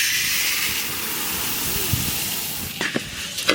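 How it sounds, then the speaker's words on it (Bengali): Moong dal roasting in a pan for a village cooking session, a loud, steady hiss close by, with a few sharp scrapes and knocks near the end. "চলুন ডাল ভেজে নিই।"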